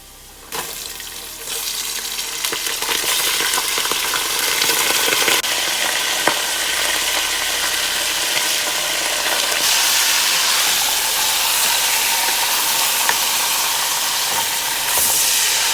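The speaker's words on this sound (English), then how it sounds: "Alright, so this is after 5 minutes of frying." Boneless mutton fries in a pot for a pilaf, a loud continuous sizzle and crackle with steady hiss, occasional stirring scrapes and clinks, close by and without talk.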